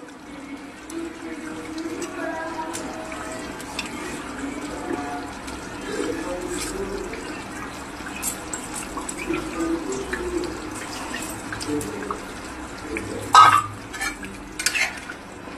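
A paste of tomato, red chili powder, turmeric and salt goes into a hot pan for fish kalia, giving a low steady sizzle with scraping and stirring and a couple of sharper clatters near the end.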